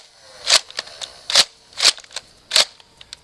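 A modded Nerf Oblivion Rifle firing shotgun blasts: four sharp, loud springy pops about a second apart, each followed by light plastic clicks and rattles of the action being cycled.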